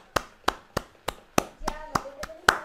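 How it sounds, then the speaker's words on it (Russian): Sparse, slow clapping at a charity festival in a city hall, about eight distinct loud claps spaced roughly evenly, with a brief tonal voice or sound mixed in near the end. "Ваши аплодисменты!"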